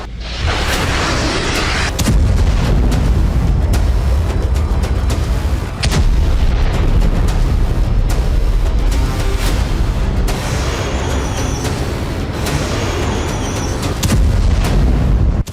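Continuous heavy artillery fire and booming explosions roar without pause, loud and dense, with sharp blasts punctuating a constant rumbling din.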